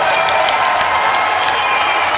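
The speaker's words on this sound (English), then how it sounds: "And the crowd on their feet showing their appreciation." A basketball crowd applauds and cheers steadily throughout, a dense, loud wash of clapping with no break, with a few crowd voices mixed in.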